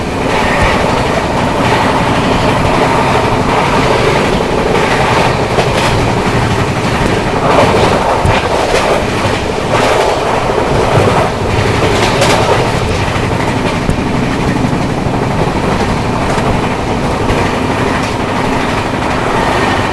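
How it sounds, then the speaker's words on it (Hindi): The AC Duronto Express from Nizamuddin to Pune runs at speed, heard from on board, with a loud constant roar, clattering wheels over rail joints and occasional squeals and rattles, and no voices. "गाड़ी अपनी बढ़िया रफ्तार में भाग रही है।"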